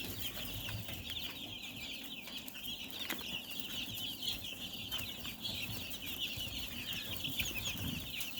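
Chickens cluck softly and intermittently nearby, with a thin, continuous chirping texture running underneath and no talking.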